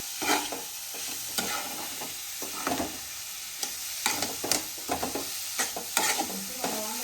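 A spoon scrapes and stirs grated coconut as it dry-roasts in a pan for coconut laddu, giving irregular scraping strokes and soft sizzling, close and fairly quiet, with no voices.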